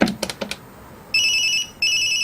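A lost mobile phone rings with an electronic ringtone in two loud, clear bursts, after a few soft knocks.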